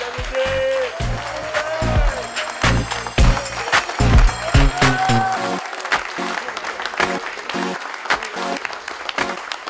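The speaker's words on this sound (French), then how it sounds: "Merci d'applaudir à nouveau le vainqueur de ce premier six-nick" Casino audience in Marrakech applauding the winner of a first tournament, dense loud clapping throughout with voices and a tonal announcement mixed in near the start.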